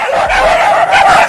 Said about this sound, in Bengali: যাতে করে কুকুরগুলো একে তাড়া করে।